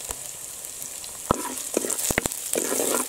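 Onion, garlic, chilies and ginger sauté in a pan for raw mango chutney, a steady close sizzle broken by sharp spoon knocks and scrapes. The knocks grow busier toward the end, and no one talks.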